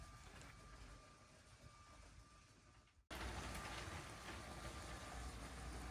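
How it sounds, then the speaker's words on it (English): A LEGO Union Pacific train rolls around the main-line loop of a layout, giving a faint, steady rumbling clatter that briefly drops away before resuming slightly louder. "So I've got the first 3 cars of the Union Pacific train moving around on the interior loop of the main line."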